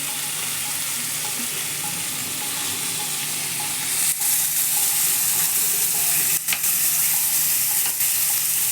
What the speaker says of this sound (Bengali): মাংসে আলুটা কেটে রেখেছি, এটা ভাজতে দিয়ে দিলাম।